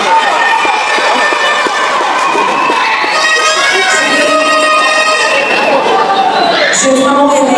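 A school festival crowd at an eloquence contest cheers and claps loudly for the Saint-Joseph school team, with children shouting and whooping over continuous applause and chatter throughout.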